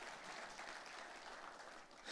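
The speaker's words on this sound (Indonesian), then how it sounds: "Kita kasih tepuk tangannya boleh yang paling meriah buat Tuhan kita." A church congregation applauds during a Christmas service, a steady wash of many hands clapping together at an even level, fairly faint and continuous with no speech over it.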